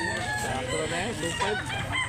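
Several roosters crow at a chicken market in Consolacion, North Cebu, overlapping calls rising and falling over a busy, crowded background with faint chatter.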